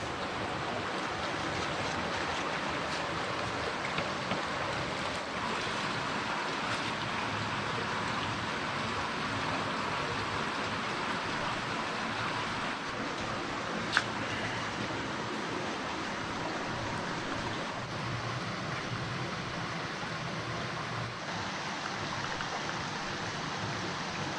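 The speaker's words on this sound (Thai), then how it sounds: "ฟังเสียงน้ำไหล" Continuous rushing water of a stream flows steadily for the whole stretch, a broad even wash of sound with no voices and only a faint click partway through.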